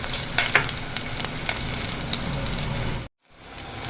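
Chopped green chillies fry in hot oil, giving a steady, close, loud sizzle with scattered crackling pops and the scrape of stirring, until the sound cuts off abruptly near the end and then resumes faintly.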